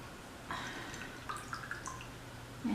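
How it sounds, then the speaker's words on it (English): Soaking water dripping and trickling out of rehydrated chili pasilla peppers as they are drained, a few scattered drips and small splashes, quiet and close. "I'm just going to drain them out."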